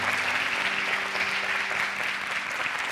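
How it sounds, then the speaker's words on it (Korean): Church congregation applauding to celebrate a baptism at an Easter service, a steady, dense wash of clapping that holds evenly at moderate level throughout with no voices over it. "우리 박수로 축하할까요?"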